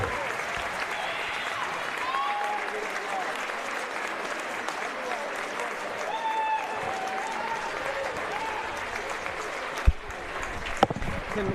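Crowd applause in a gym at a women's college basketball game honouring an academic All-American, a steady wash of clapping with whistles and cheers over it and a couple of sharp knocks near the end.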